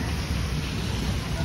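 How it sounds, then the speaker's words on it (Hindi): Heavy rain pours down outdoors in a steady, dense wash of noise with no breaks, loud and close. "भाई साहब इतनी बारिश हुई है"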